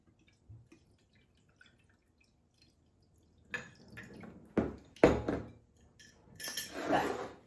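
Water poured carefully onto water kefir grains in a container, faint trickles and drips with light clinks of glass, starting after a quiet stretch and coming in several short, uneven splashes.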